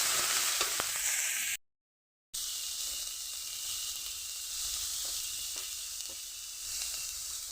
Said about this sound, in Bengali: তাহলে এবার মশলাটাকে ঢেলে দিয়ে দেবো এর ভিতরে, দিয়ে একটুখানি নাড়িয়ে ছেড়ে দেবেন।